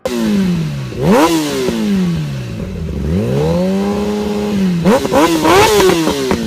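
A Kawasaki sport motorcycle engine revs hard several times, rising and falling in pitch with a loud, close, raspy exhaust note between steady idling stretches.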